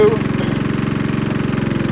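Engine powering a crop sprayer rig set up to apply 2,4-D and malathion, running close and loud with a fast, even throbbing pulse, held steady throughout.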